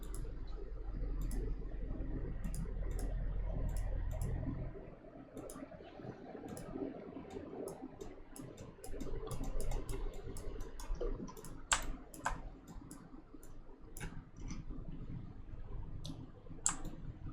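Crisp computer mouse clicks while working in Daz 3D software, scattered single and double clicks at irregular intervals over a low background hum.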